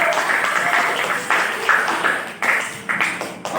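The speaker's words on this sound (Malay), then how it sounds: "berikan tepukan untuk Danish" Classmates clap for a pupil named Danish in a school lesson, a short patter of applause coming in uneven bursts that rise and decay several times.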